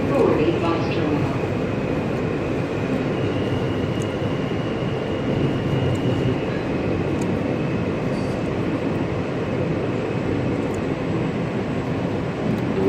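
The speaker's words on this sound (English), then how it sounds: "This is a Brooklyn Fast Train." A New York subway train rumbles through Times Square station, a loud continuous roar of wheels and motors with faint squeals, while people talk underneath.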